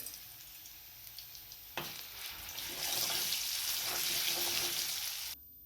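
Cumin and a little garlic paste frying in a pan for a fenugreek-leaf bhaji, a sharp sizzle that jumps up when added and then holds steady and loud before cutting off.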